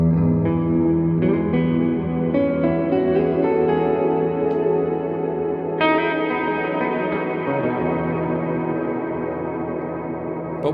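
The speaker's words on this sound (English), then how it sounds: "we have got then this very, very long reverb available when I turn all of those controls up" Electric guitar played through a UAFX compact pedal set to a very long reverb, with sustained chords and notes washing into a dense, lingering tail that fills the whole passage at a steady, loud level.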